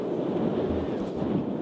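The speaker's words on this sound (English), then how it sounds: "It's very windy up here." Wind buffets the microphone on top of a steep hill, a steady, close, low rumbling roar that fills the whole short stretch with no voices over it.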